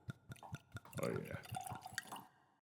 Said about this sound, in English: That's a good pour.